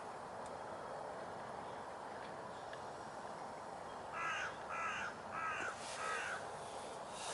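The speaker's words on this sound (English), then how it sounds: "there's loads of seagulls down here this time" Gulls call over a London road pond, with a cluster of four or five loud, harsh cries in the second half over steady outdoor background noise.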